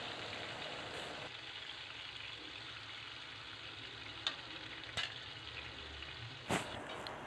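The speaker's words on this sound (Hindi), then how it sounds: "सारी चिकन इसके अंदर ऐड करके इसको अच्छी तरीके से जो है वो फ्राई कर लेना है।" Steady, quiet sizzle of chicken frying in oil in a home kitchen pan, a continuous crackling bed with a few faint clicks and taps, no talking.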